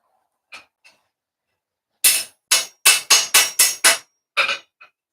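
Blacksmith's hammer striking metal on an anvil during forging: a few light taps, then a rapid run of six loud ringing blows, followed by a couple more strikes, close and sharp with silence between.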